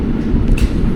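A train pulls away from a station platform with a loud, steady low rumble and faint rail clatter, heard up close for a brief moment without talk.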